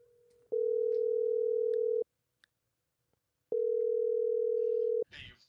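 A phone call to a father rings out as a steady electronic ringback tone, two long even buzzes separated by a pause, loud and close, with a voice beginning just as the second tone ends.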